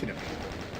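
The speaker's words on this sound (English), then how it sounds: "Someone's shooting at me here." Bursts of gunfire crackle loudly in the video game Doom, a short dense volley without a clear break.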